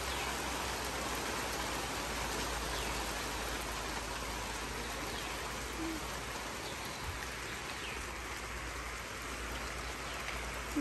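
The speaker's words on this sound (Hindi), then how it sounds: "उई बारिश बढ़ गई" Steady rain falls in misty hill country at Lansdowne. It makes a continuous soft hiss of drops on surfaces, even and moderately loud throughout, with no voices.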